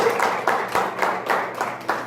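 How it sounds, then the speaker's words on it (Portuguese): A church congregation claps in rhythm to praise the Lord during a worship service: steady, loud, closely spaced claps from many hands, repeating in even bursts about every quarter second. "Aplauda mais forte ao Senhor."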